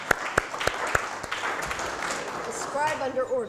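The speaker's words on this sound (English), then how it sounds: "Round of applause for our scribe." An audience applauds a volunteer scribe at a talk, starting with a few sharp separate claps, then a short patter of applause that fades as a voice begins speaking over it.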